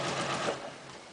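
Sewing machine stitching a straight seam along the bottom edge of a sleeve with a 5/8 inch allowance, a steady close whirring hum that fades slightly toward the end of a brief run.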